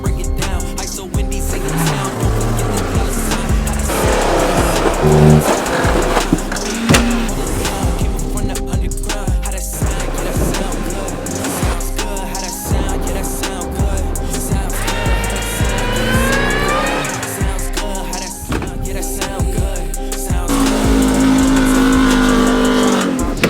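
A Porsche Cayenne is driven hard, its engine revving and surging through changing speeds with possible tire noise, loud and continuous throughout.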